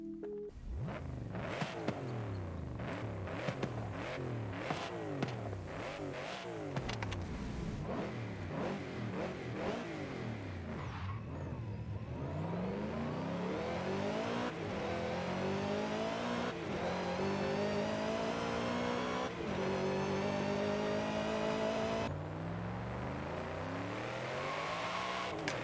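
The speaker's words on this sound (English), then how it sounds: "It's called a Voodoo engine. It's actually a flat plane crank in this car." Ford Mustang with a flat-plane-crank Voodoo V8 in Forza Horizon 5, revving hard through repeated rising and falling sweeps before climbing steadily through the gears at high rpm, loud and close, with no talk.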